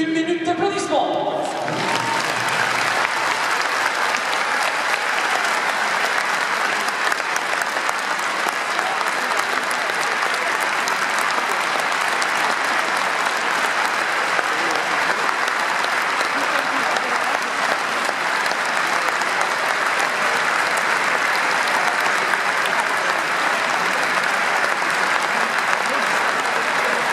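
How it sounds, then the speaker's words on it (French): A stadium crowd at a football match gives a full minute of applause in tribute to Jacques Couder, a dense, steady roar of clapping that starts abruptly after a brief moment and holds evenly loud throughout. "Nous vous prions s'il vous plaît, en hommage à Jacques Couder, de respecter 1 minute d'applaudissement."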